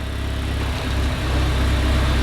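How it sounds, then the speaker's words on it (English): A Renault Megane engine runs at idle after a new clutch, gearbox and flywheel, giving a close, steady low rumble with a slightly rising exhaust drone. "It's definitely sounding like the exhaust tone's a lot more back there."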